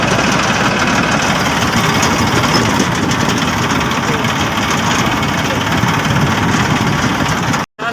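A tractor engine idles loudly and steadily at close range on a farm, a constant low rumbling drone that cuts out abruptly near the end.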